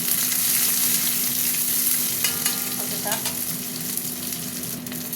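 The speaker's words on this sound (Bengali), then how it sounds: "পেঁয়াজটা ভাজা ভাজা হবে।" Onions fry in hot oil with bay leaf and dried chilli in a pan, giving a steady close sizzle broken by occasional scrapes and clinks of a spatula stirring, with no talking.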